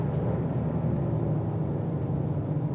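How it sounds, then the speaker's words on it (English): Induction noise from a 2020 Ford Explorer ST is piped through the cabin speakers as a steady low engine drone under road rumble, continuous and moderately loud while driving, with no one talking. "definitely hear that induction noise through the speakers"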